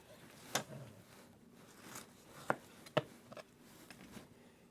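A knife trimming fat and moldy pellicle off a slab of ribs, heard as a few sharp, separate cutting scrapes and snicks, fairly close and quiet, with no talk.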